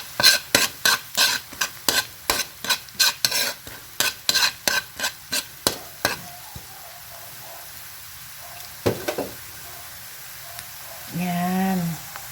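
Garlic dropped into hot oil for veggie fried rice, scraped and stirred in a rapid run of sharp, loud spatula strokes against the pan over a steady sizzle, then quieter frying with a brief voice near the end.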